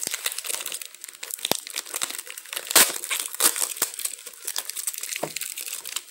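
A tightly sealed shipping package is ripped open by hand, producing dense, close crinkling and crackling of plastic wrapping with sharper tearing bursts throughout.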